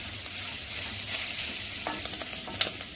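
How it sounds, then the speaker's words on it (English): Onion added to a hot pan for samosa filling, a continuous sizzle with scraping stirs and utensil taps toward the end. "Now it's time to add our onion."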